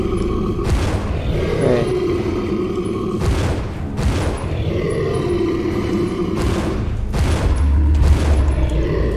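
Heavy gunshots ring out in the survival horror game Resident Evil Zero, several loud booming blasts spaced a couple of seconds apart over a dark, rumbling background of growls and ambience.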